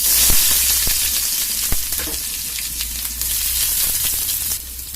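Onions sizzle and fry in hot cooking oil with spluttering mustard seeds for masala poori, a continuous close hiss with sharp pops and occasional stirring clicks.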